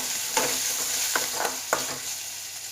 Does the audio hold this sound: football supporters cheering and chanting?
no